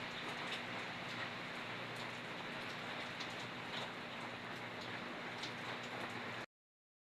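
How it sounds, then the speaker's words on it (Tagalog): Heavy rain pours steadily on a farm in Bulacan, a dense, even hiss of drops on surfaces that continues unbroken for several seconds before cutting off abruptly, with no talking. "Medyo lumakas na rin yung ulan."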